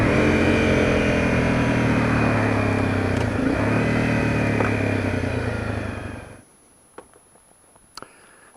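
Honda CRF250L motorcycle on a leisurely ride, its steady mid-pitched engine drone and road rush loud and close, then the engine cuts off and fades near the end, leaving quiet with a couple of small clicks.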